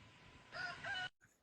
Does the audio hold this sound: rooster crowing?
yes